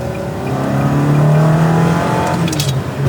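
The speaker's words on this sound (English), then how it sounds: "The induction noise is so sick." A Ferrari 360 engine drones loudly and steadily with a deep induction roar, heard from inside the car, with a brief high squeal near the end.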